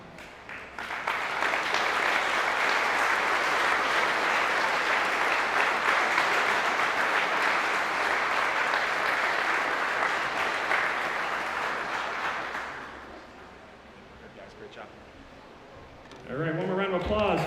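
A school moving-up ceremony audience gives steady applause for students receiving the Principal's Award, filling the room for about twelve seconds before fading, with a voice speaking at the end.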